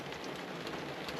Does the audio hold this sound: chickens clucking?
no